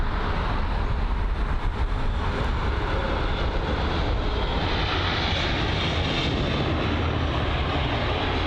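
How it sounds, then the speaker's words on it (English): A British Airways Airbus A321ceo jet at London Heathrow roars loudly and continuously, a broad engine rumble filling the whole stretch without talk. "So this is the British Airways A321"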